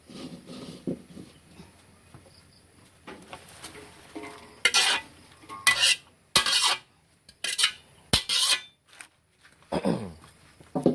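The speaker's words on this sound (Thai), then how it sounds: "เอากระทะนะฮะตั้งไฟให้ร้อน นะครับแล้วก็ใช้ผักที่เราเตรียมไว้นะครับลงไปผัด" Vegetables are stir-fried in a hot wok for jap chai, with scraping and clattering of a spatula against the pan coming in bursts that grow louder and more frequent toward the end.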